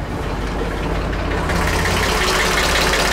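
The engine of a small cabin cruiser boat idling just after starting, a steady close rumbling chug with a knocking diesel-like rattle that grows slightly louder midway, with no talking.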